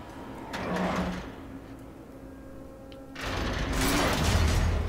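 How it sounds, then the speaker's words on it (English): A door swings open in Batman: The Telltale Series, a mechanical sliding rush that rises briefly, fades, then returns as a longer, louder whoosh with no talking. "I'm about to open this door."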